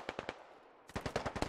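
Suppressing machine-gun fire in the tactical shooter Squad, with a short burst of three shots, a brief gap, then a longer rapid burst, sharp and close.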